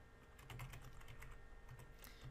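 A computer keyboard clatters with quick, soft keystrokes in an irregular run while someone enters a VLAN name during a network switch configuration, faint and close with no voice over it.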